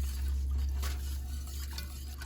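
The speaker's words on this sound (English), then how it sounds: "We're going to add basically 3 cups of milk in." Milk poured into a pot of potato soup, a short continuous liquid gush with low burbling, close and moderately loud, alone without talk.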